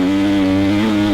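KTM 350XCF dirt bike, a 2025 model, revving steadily on the throttle, a loud close engine drone with a strong buzzing tone that holds level for about a second with no talk.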